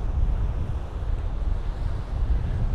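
Wind buffets a microphone outdoors, a loud continuous low rumble with gusty fluctuations and no voices.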